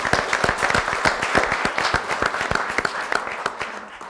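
An audience at an exercise and brain symposium applauds after a live demonstration, with sharp individual claps standing out close by against a fuller roll of clapping that keeps going throughout.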